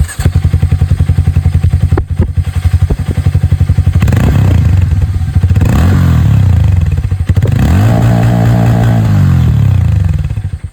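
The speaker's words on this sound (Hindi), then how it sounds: "और अब बारी है यहाँ पर हार्ले डेविडसन X440 को सुनने की। इसकी जो आवाज़ है वो भी आप लोग यहाँ पर सुन लीजिए।" A Harley-Davidson X440 motorcycle exhaust, heard up close, chugs loudly at idle, then is revved up twice in rising, sustained bursts that fall back toward idle; no one talks over it.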